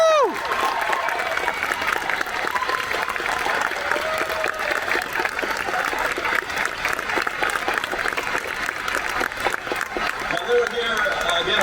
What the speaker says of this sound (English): A round of applause, everybody, for Israel Molina and our director